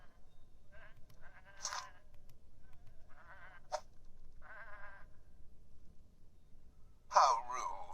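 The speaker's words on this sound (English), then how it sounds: "Come on, these are just sheep." Short, scattered sheep bleats from the Whateverland video game sound at low volume against a quiet background, with a brighter cry near the end and spoken dialogue mixed in.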